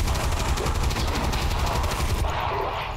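Rapid, loud, sustained automatic gunfire from the video game XCOM 2, hammering steadily for about two seconds before cutting off.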